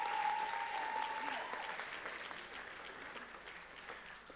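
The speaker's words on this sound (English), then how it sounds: "Another incredible round of applause for our 12 local heroes" Applause from an awards-ceremony audience at the Local Heroes Awards, steady and fairly distant with a brief tone near the start.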